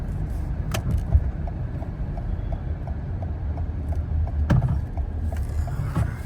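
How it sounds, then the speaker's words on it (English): A 74,000-mile Toyota RAV4 hybrid rolls up a long estate driveway, heard from inside as a low, steady road rumble with occasional soft knocks and crunches, no talking. "I drive up the long driveway."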